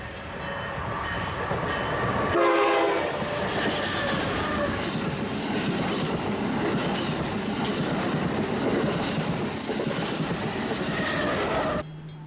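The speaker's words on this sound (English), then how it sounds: "here comes the northbound Acela high-speed train." Northbound Acela high-speed train rushing through an at-grade crossing on a curved track in Mystic, a loud sustained roar with clattering wheels that arrives abruptly and cuts off near the end.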